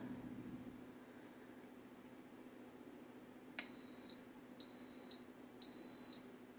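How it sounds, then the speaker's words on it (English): A quiet appliance hum, then an Instant Pot pressure cooker gives a short chirp followed by three longer high-pitched beeps, evenly spaced and close. "It'll beep to let you know it's started."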